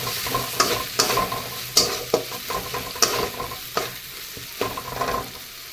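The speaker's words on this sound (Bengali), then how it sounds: "মশলাটাকে ভালো করে ভেজে নেবো।" Spice masala with bay leaf, dried red chilli and garam masala frying in a pan with ground fish, a loud steady sizzle broken by regular scraping stirs of a spatula, close and without voices.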